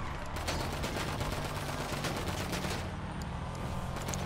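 Bursts of gunfire from the multiplayer video game GTA V, dense rapid shots overlapping into sustained automatic fire that runs the whole time, loud and close with no speech over it.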